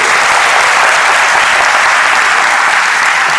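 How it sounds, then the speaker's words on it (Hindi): A crowd claps loudly and steadily in honour of Nidhi Jain at a motivational talk, dense uninterrupted applause filling the whole moment. "ऐसी लाडली बेटी के सम्मान में एक बार जोरदार तालियां बजाइए"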